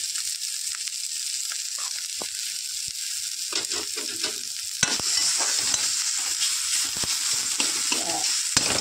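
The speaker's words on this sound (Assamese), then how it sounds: "ভাজি লওঁ ভালদৰে। এইখিনি ভাজি ল'লে ভাল হয়।" Bottle gourd flowers fry with turmeric and salt in a pan, giving a steady close sizzle and a run of stirring scrapes that gets louder partway through. No one speaks.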